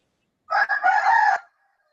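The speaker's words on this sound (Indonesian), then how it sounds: "Siapa punya ayam tuh?" A rooster crows once, a single clear call of about one second, moderately loud and alone against silence.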